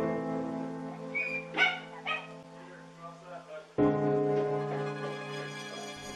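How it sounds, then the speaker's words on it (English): A dog inside a house gives whining, yelping barks in several uneven bursts, mixed in with people talking nearby. "the only signs of life was their barking dog"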